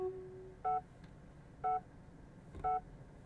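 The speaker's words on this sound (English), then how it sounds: "just like a second generation Toyota Prius, it beeps at you" Three evenly spaced chimes of two or three stacked tones each from a 2023 Lexus RZ 450e electric car, about a second apart, clear over a low cabin hum.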